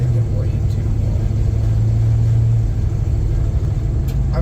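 A Chevelle car engine rumbles low and steady while driving slowly with the accelerator floored, a continuous deep drone with a sustained hum, heard up close from inside.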